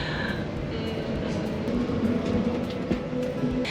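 Steady rumble and rolling clatter inside a moving French train, a continuous close interior drone with faint squeals and rhythmic rail noise throughout.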